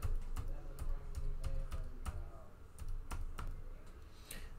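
Keys tapped on an HP 15 F Series laptop keyboard during a key test after repair, a quick series of sharp, close clicks in an irregular rhythm over a steady low hum, with no talking.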